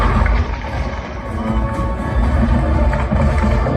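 Jurassic Park movie soundtrack in 5.1 Dolby played through a Sony HT-S400 2.1-channel soundbar, a dense, loud, continuous rumble of effects and crowd-like noise with heavy bass.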